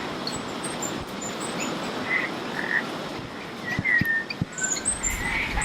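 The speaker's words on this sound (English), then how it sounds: "You can also hear many frogs in the background in this damp environment." Many frogs croak in the background of a damp forest, a dense, steady chorus of rattling calls at moderate distance, with a few thin bird chirps and insect buzz over it.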